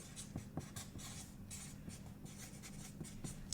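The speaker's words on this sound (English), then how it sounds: "I take a marker and I write on the box fragile live plant" A marker scratching across a cardboard shipping box, quiet close strokes in short irregular bursts of squeaky scribbling, alone without voices.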